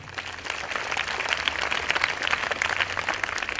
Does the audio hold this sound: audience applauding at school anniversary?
yes